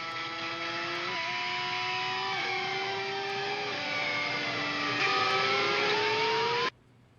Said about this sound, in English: It was a mixture between feedback and pick scrapes and stuff like that